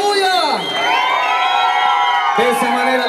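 Guests at a quinceañera with a mariachi band cheer, whoop and shout together, a loud, close crowd swell with high voices rising and falling across the whole moment.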